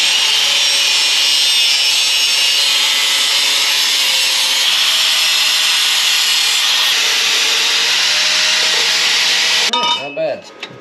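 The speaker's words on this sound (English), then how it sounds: "I just want to trim just like an inch off of this thing all the way around." Steady, loud abrasive cutting of an exhaust pipe for a 1955 Buick Special, running continuously for nearly ten seconds before stopping abruptly, followed by a brief low rumble.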